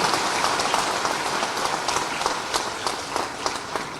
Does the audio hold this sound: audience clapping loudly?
yes